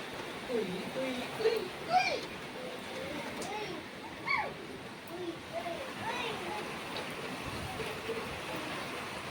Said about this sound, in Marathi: खूप पाऊस येत आहे